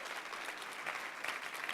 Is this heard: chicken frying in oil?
no